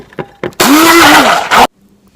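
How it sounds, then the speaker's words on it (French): A kitchen blender whirs loudly for about a second while mixing aloe vera gel, after a few short knocks, then stops abruptly and leaves a faint hum. "Donc, on va prendre un mixeur."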